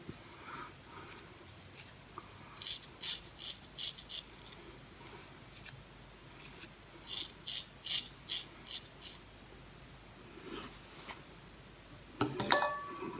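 A Gem Junior safety razor scrapes over lathered stubble in short, faint bursts of crisp rasping strokes, grouped in quick runs with pauses between, ending in a brief clink.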